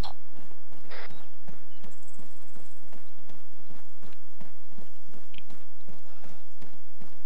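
Horse hooves clip-clop in Arma 3, a steady, close walking rhythm of hard strikes on a road, with brief faint voices and game sounds in the background.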